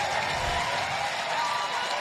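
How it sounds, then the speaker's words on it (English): Applause from a packed capacity crowd at an indoor track meet at New Balance in Brighton, Massachusetts, a dense steady clatter of clapping filling the hall, fairly loud and continuous with no voices standing out. "Gets a nice hand from this packed capacity crowd at the track at New Balance"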